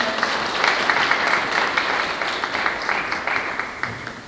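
A ceremony audience at a volunteers' day event in Eunpyeong-gu gives a vice president a big round of applause. Many hands clap in a dense, continuous wash that stays fairly close and loud, then tapers slightly toward the end, with no talking.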